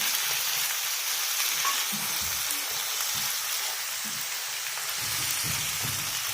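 Chicken frying with green chilies in a pan, giving a dense, continuous sizzle like steady rain, with a few soft stirring knocks underneath and no talking.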